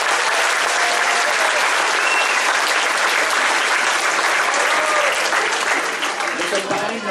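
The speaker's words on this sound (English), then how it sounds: "Let's clap for our wonderful Ionian orchestra." A large audience at a school concert applauds a string orchestra with dense, loud, sustained clapping that fills the hall for several seconds, with some voices underneath.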